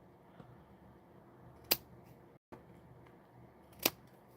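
Scissors make two crisp, isolated snips a couple of seconds apart, trimming a 3/4-inch strip from a flap of material in a quiet room.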